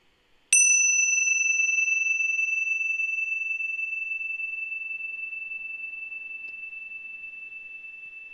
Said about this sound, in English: listen to the sound of the bell moving through time